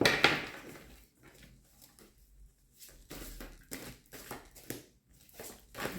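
A deck of reading cards is shuffled by hand, giving soft, uneven riffling and patting bursts that come and go quietly at close range, with a sharper rustle at the start.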